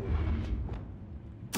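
A Depulso spell striking gears in Hogwarts Legacy: a deep rumbling magical impact with a brief whoosh, then a sharp burst at the end, close and alone without talk.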